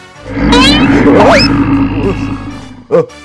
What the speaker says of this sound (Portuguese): Esse rugido. Ah, esse é meu tigre.